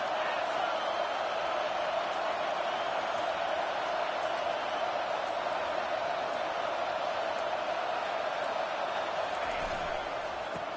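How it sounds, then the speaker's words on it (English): A packed stadium crowd roars in the NCAA College Football 25 video game, a dense, steady wash of cheering that holds at an even level throughout, with a voice faintly underneath. "This crowd bringing an ear-splitting welcome to their visitors."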